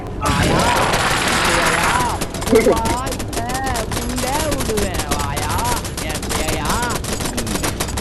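Constant rapid gunfire blasts and rattles in the fan-made horror game Choo Choo Charles, dense and loud throughout, with excited voices talking over the shooting.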